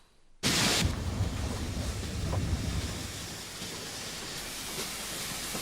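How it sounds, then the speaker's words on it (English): A steam train hisses and rumbles in a broad, steady roar that starts suddenly and continues at a fairly even level. "Can't have a 1930s English TV program without a steam train."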